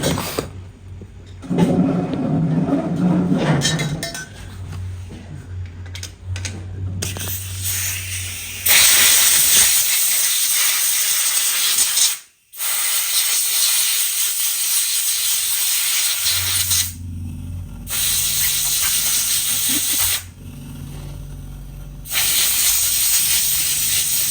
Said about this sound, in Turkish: Şöyle bir tane tam balata spreyini feda edeyim.